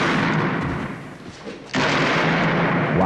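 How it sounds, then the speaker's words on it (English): Gunfire from a 1976 siege film, with dense, loud blasts that thin briefly and then return at full force, alongside a faint voice. "Why are the police shooting them?"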